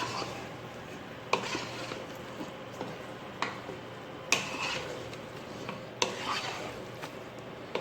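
Vodka rigatoni sauce being stirred in a pot, a soft continuous scraping and rubbing with a few sharper clicks of the spoon against the pan, close and alone without talk.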